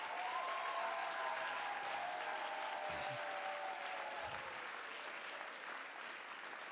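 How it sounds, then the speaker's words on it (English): Applause at the TSIBA 2023 graduation ceremony honors the staff, a dense, even patter of many hands clapping at moderate distance and fading slightly toward the end. "Can we give a round of applause to all the staff members?"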